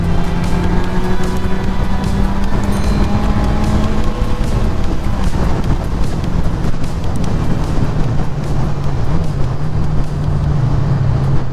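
A 1970s Honda CB550 Four motorcycle rides off on a test run, its engine droning loudly and steadily under heavy wind rush at the microphone, pitch rising and falling slightly with the throttle.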